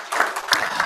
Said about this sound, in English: A round of applause, I think, for these participants that travel so far away to be here.